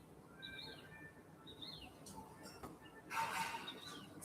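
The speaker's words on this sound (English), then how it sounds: "See the birds." Birds chirp outdoors in a few thin, high calls spread across the clip, fairly faint over a soft background hiss, with a brighter burst near the end.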